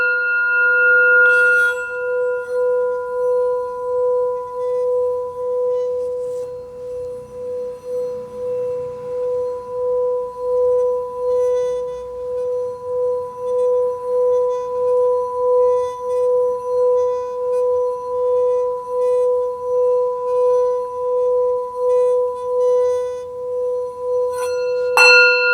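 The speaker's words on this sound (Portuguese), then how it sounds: "Esse aqui é um sino tibetano." A Tibetan singing bowl rings with a steady sustained metallic tone and bright overtones, held evenly for over twenty seconds, close and clear, with a fresh strike near the end.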